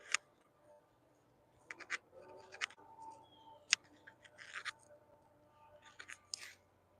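Garden scissors snip at plants during pruning, a scattering of sharp, quiet clicks and cuts at irregular intervals, close to the microphone, with faint rustling of leaves between them.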